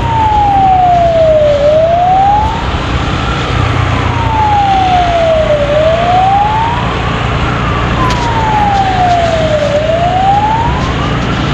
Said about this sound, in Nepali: यस्तो एम्बुलेन्स आइरहेको छ,